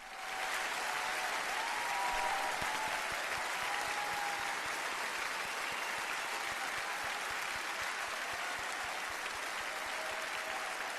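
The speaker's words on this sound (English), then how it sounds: "That was a long applause." Long, sustained theatre audience applause after a Phantom of the Opera performance, a dense, steady wash of many hands clapping at an even level throughout, with no talking.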